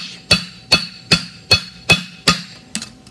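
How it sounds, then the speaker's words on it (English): A steel edge is hammered on a hardy during a forging lesson. Six sharp, ringing metal blows land at a steady, even rhythm about every 0.4 seconds, loud and close, and a lighter seventh tap follows. "this is just a piece of steel with a hardy on it, and then I just kind of work that edge"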